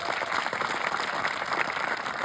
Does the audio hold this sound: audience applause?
yes